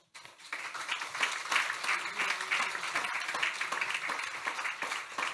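A church congregation claps warmly to welcome a visiting pastor during a Sunday worship service, a dense sustained applause that swells in quickly and stays fairly even, moderately distant.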